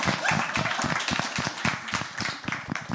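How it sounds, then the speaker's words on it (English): A small audience claps as nonprofit co-founders are welcomed onstage at a live college-admission event, individual handclaps audible and fairly close, with a brief voice in the background. "yep, you can applaud."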